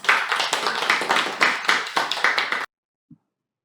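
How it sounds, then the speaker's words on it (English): A round of applause from a small Toastmasters club meeting, a brisk burst of many hands clapping that stops abruptly, then near silence with one faint tap. "Let us all welcome Toastmasters Puneet, taking the role of presiding officer with a huge round of applause."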